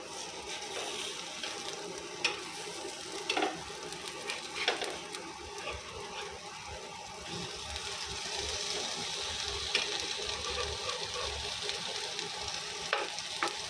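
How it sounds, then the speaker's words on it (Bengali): Chicken steak fries in butter in a nonstick pan, giving a steady close sizzle with crackling bursts and occasional utensil scrapes throughout, with no talking. "ননস্টিক প্যানে বাটার দিয়ে কিন্তু খুব কম আছে ভালো করে ভেজে নিতে হবে 8 মিনিট"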